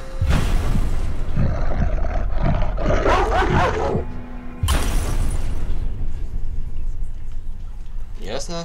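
A wolf growls and roars loudly in the horror game Layers of Fear, harsh rumbling snarls filling most of the stretch with a brief dip midway, mixed with game noise and a player's voice.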